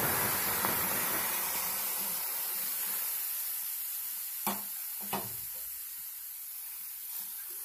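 Cut tomato pieces sizzle in a hot pan for a homemade tomato pickle, a steady close hiss that slowly eases, broken by two or three brief clicks near the end.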